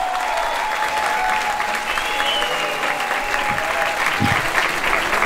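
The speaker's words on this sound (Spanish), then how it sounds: "fuerte el aplauso para Ronald" A crowd claps steadily and loudly throughout, a dense wash of applause with a faint tone ringing under it.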